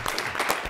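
Applause at a board meeting, with a room of attendees clapping together in a brief, dense, even wash of sound heard up close.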